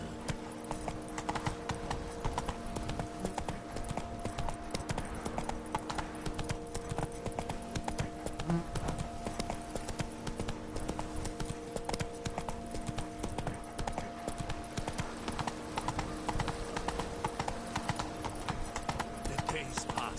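Steady clip-clop of horse hooves at a riding pace in Witcher 3, set in Toussaint, running continuously under game music and ambience with a voice speaking over it.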